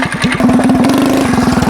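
A stationary engine fitted to a motorized skateboard with a sport exhaust runs loud and close, a rapid pulsing putter with a steady low drone that quickly settles into a rough, throbbing idle.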